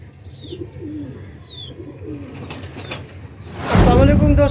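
Rampuri pigeons coo in low, rolling phrases, with a few higher chirps over them, before a loud, close burst of noise near the end.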